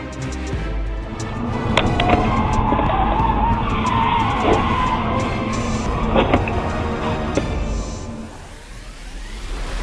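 A dashcam captures two cars colliding with a long tire skid and screech over road noise, followed by a few sharp impacts, loud and close throughout.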